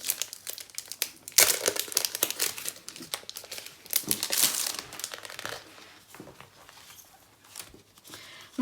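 Crinkly plastic packaging on scrapbooking pocket supplies is opened up close, giving repeated irregular crackles and crumples that come in bursts and then ease off. No voices.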